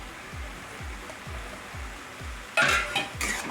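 Radish bhaji with coarse crushed peanut powder being stirred in a pan, a steady rhythm of soft low scraping strokes, then brighter metallic clinks of the spoon against the pan near the end, close and moderately loud with no talk.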